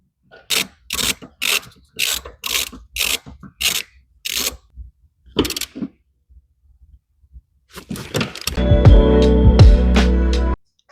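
A ratchet bolts the passenger seat into a Miata, giving a run of quick, sharp clicking bursts at an even pace. A pause follows, then a louder, steady mechanical drone swells in at the end.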